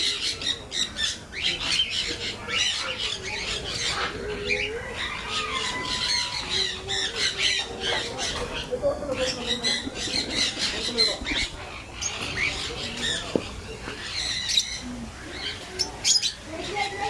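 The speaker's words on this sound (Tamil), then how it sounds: "இங்கே ஒரு கிளி பாருங்க" Parrot in an aviary at a bird park in Chavakkad, Kerala, producing scattered squawks and chirps among other bird calls, fairly steady and moderately near, with faint background voices.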